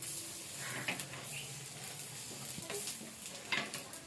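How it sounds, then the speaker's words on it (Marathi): Pav bread warming in a pan gives a soft, steady sizzle and hiss, with a few light scraping stirs, close and fairly quiet. "इथं मी स्वरासाठी इथं पाव गरम करून देते तिला."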